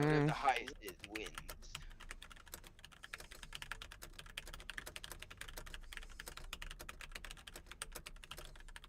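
Fast, steady computer keyboard typing in a Mario Teaches Typing session, a dense run of quick close key clicks, with a brief voice at the start.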